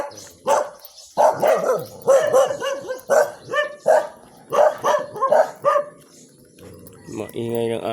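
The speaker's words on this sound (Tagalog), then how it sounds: "Ang ingay ng mga aso." Several dogs bark noisily and repeatedly in quick, overlapping bursts, close by, outdoors on a morning, with a brief pause before a final harsh sound near the end.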